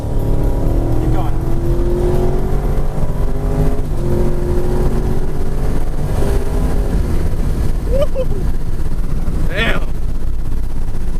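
A Camaro SS with an automatic in performance shift mode accelerates hard at wide open throttle with rising engine notes through gear changes, then blips through rev-matched downshifts as it slows; a voice speaks briefly over the loud, close engine.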